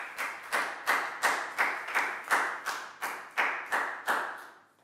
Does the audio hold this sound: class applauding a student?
yes